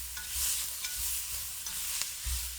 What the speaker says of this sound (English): just get that fresh hit of veggies as they just start to sear and combine with that roux